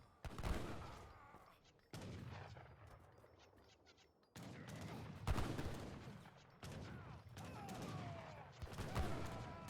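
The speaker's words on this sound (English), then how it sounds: "Getting some really nice shots off Oliveza as well, popping the Minutemen there" Musket volleys crackle in an Age of Empires III battle, with repeated bursts of overlapping gunfire and booms in quick succession, loud and busy, with a commentator's voice faintly underneath.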